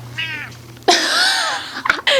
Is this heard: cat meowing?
yes